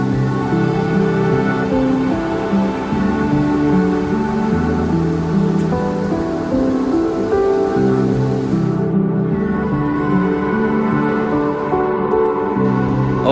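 Steady rain falls throughout on a mountain trek to Kareri Lake, a dense, continuous patter at an even, fairly loud level with no voices and no pauses.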